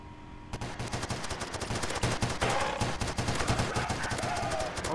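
An RPK light machine gun in a Roblox shooter fires long continuous automatic bursts, a fast steady rattle of closely spaced shots that keeps going, loud and close, with a brief lull before resuming.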